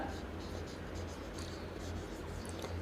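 A pen writes numbers on paper during a Class 6 NCERT maths lesson, a steady faint scratching that runs continuously over a low constant background hum.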